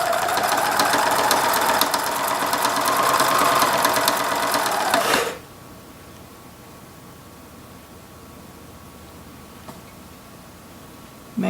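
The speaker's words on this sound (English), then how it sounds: "I have my 1/4 inch piecing foot, and I'll be sewing in pattern as the pieces are laid here." A sewing machine with a 1/4 inch piecing foot runs in a fast, steady whir over fabric strips for about five seconds, then stops abruptly, leaving a quiet room.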